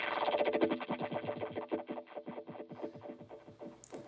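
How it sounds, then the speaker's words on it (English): A BOSS DD-500 delay pedal set to Tera delay turns a played phrase into rapid pulsing echoes that smear and repeat for several seconds, fading gradually and ending in a brief high swell, with no talk. "It's the Tera delay"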